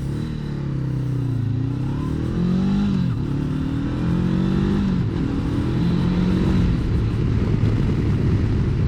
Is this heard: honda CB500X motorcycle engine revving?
yes